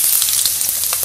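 Panch phoron and dried red chilies frying in hot oil, a close, bright continuous sizzle with crackling pops, heard alone.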